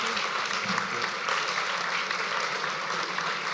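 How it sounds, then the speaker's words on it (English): Applause from an audience for panelists at a panel discussion, a dense, even wash of clapping that holds steady from start to finish. "I'd like to give a warm round of applause to our panelists."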